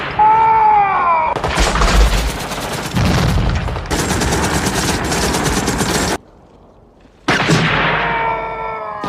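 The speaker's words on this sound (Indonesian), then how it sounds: "Vietcong melakukan serangan yang sisi baiknya membuat Joker dan kawan-kawan mengetahui di mana posisi musuh bersembunyi saat ini" Gunfire in a Vietnam War film battle scene: loud, sustained bursts of machine-gun and rifle fire in dense overlapping volleys, a brief near-silent gap, then another heavy burst with a whistling tone.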